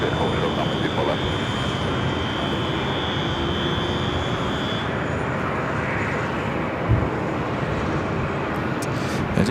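A Delta airliner rolls out and turns off the runway at Los Angeles airport, its jet engines a loud, continuous roar with a high whine that fades midway, with a brief thump near the end.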